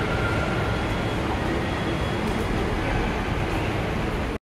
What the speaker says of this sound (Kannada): ಇವಾಗ ನಾನು ನಾಗಸಂದ್ರ ಮೆಟ್ರೋ ಸ್ಟೇಷನಲ್ಲಿ ಇದ್ದೀನಿ.